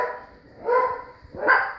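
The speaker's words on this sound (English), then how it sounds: "I apologize for the barking, but that's my life with 4 dogs" Dogs in a household of four bark in two loud, close bursts, a short pause between them.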